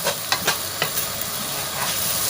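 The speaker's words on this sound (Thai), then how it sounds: "เราก็คั่วผัดให้แห้งนะคะ ไม่ต้องแห้งมากนะคะ" Egg and sweet preserved radish stir-fried in a pan, loud steady sizzle under sharp scrapes of a spatula against the pan, close up with no talking.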